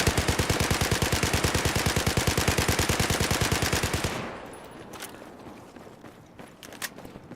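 A U-100 MK5 light machine gun fires in Battlefield 4, a loud, rapid, steady burst of automatic shots for about four seconds, then stops, leaving faint background clatter and a few small knocks.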